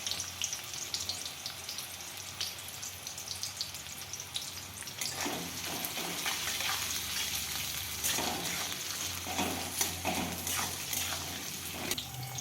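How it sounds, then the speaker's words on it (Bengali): Chopped onions frying in ghee for Kashmiri chicken, a constant soft sizzle that grows busier midway with crackling bursts and light stirring scrapes, fairly quiet and without talk. "পেঁয়াজটা আমার মোটামুটি ভাজা হয়েছে"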